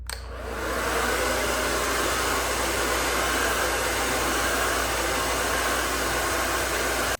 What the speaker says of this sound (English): I'm just gonna blow it out on high heat.